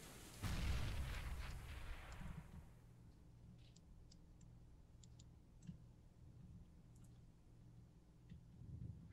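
A grenade explodes in a Counter-Strike match on de_mirage, a loud broad boom with a rumbling tail that fades over about two seconds, followed by quieter faint ticks and clicks in the background.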